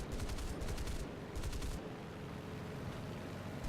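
Aircraft machine guns on an F8F-1B Bearcat in the War Thunder flight game fire in sustained rapid bursts during a dogfight, a dense loud rattle over a constant engine roar with no pauses.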